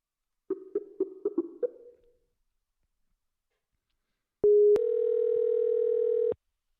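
Phone keypad tones come as a quick run of five short beeps, followed by a pause and then a steady, loud, continuous tone lasting about two seconds. Nobody talks.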